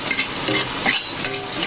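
Yellow bolete mushrooms stir-fried in a pan with Sichuan pepper powder and salt give a close, lively sizzle with brief scraping and tossing bursts from the spatula, all within a couple of seconds.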